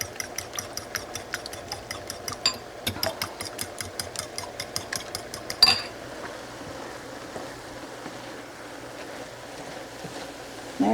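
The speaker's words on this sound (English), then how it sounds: "We're going to whip these eggs up right like this." Quick rhythmic tapping of a whisk beating eggs in a bowl for several seconds, then it stops, leaving a quiet background.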